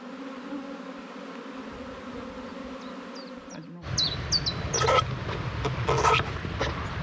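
Honeybees around a hive stand at the hive entrance, giving a steady low buzzing hum throughout, which grows louder and busier in the second half, with faint bird chirps above.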